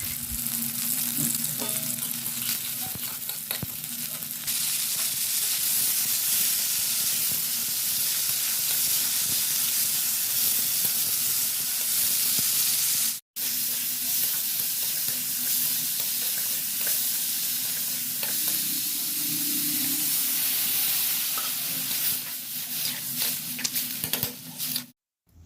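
Potatoes and cowpeas (barbati) fry in a pan with a steady, close sizzle that runs almost continuously, broken by one brief gap near the middle.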